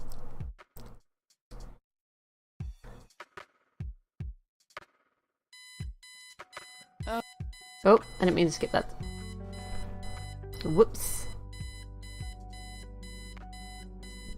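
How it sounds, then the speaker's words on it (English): An alarm clock rings in the detective adventure game Kathy Rain, a steady electronic beeping tone that starts partway through and keeps going under brief spoken words. "Let's turn off the alarm clock, shall we?"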